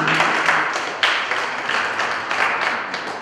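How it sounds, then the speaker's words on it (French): An audience at an outdoor music fan event claps in a dense, sustained burst of applause that swells and fades in waves, loud and close, with no speech over it. "Acclamez encore pour lui"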